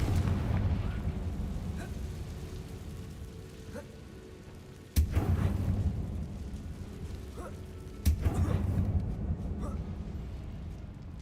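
Two sharp Confringo blasts from a spell cast in the Hogwarts Legacy video game, each a sudden loud burst with a rumbling tail, over a steady low game ambience inside a tomb.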